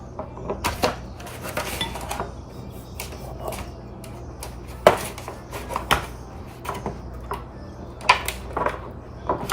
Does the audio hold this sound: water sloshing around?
no